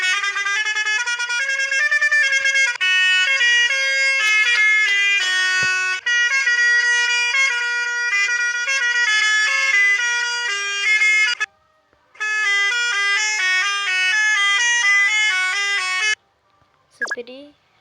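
A loud musical bus horn plays a sustained, multi-tone melodic pattern for about eleven seconds, stops briefly, then resumes for several more seconds before a short burst of noise at the end.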